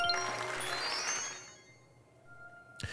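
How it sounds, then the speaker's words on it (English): Bright, chiming wedding bells from the video game Super Mario Odyssey ring out, then fade over about a second and a half into quiet. A faint sharp click sounds near the end. "Just hear those wedding bells clashing, ring ting tingling to ring a ding a ding a ding dong ding."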